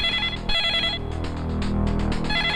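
A telephone rings in a Hindi action film scene, an electronic ringtone repeating in quick, bright bursts close by, with no talking.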